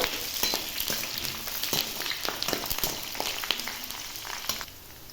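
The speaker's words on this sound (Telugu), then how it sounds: "సో ఇప్పుడైతే మనం కరివేపాకు వేసుకున్నాము చూడండి కరివేపాకు వేసాను" Curry leaves fry in hot oil with a dense, crackling sizzle and scattered sharp pops, steady and close for several seconds, without any talking.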